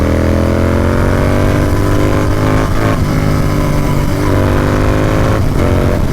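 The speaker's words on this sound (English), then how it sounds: "This exhaust always puts smile on my face" A loud motorcycle engine revs continuously with a deep, throaty exhaust rumble, pitch rising and falling in short throttle blips, close by with no talking.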